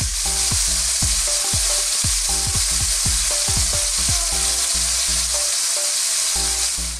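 Steak or fries frying in a pan, a loud constant sizzle, with repeated clanks and scrapes as the food is tossed around, and no talking.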